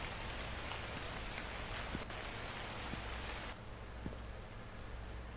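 Heavy rain pours steadily in a nighttime convenience store video game, a dense, loud, unbroken hiss with occasional faint knocks beneath it.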